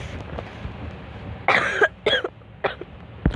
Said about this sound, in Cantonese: 有咳添